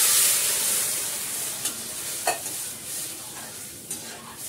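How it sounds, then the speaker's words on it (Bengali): Dal is tempered with spices in hot oil, giving a soft, steady sizzle with a hiss of steam and a few light clinks of stirring scattered through it. "ডালটা ফোড়ন দিয়ে নিই"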